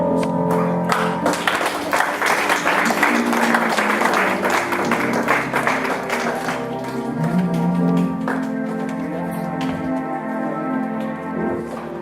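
A church congregation claps in welcome for the children's department, a dense, steady patter of many hands filling the room, with music playing underneath.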